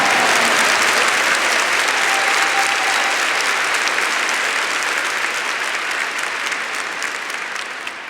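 A church congregation claps loudly and continuously, a dense, even wash of applause that tapers slightly toward the end.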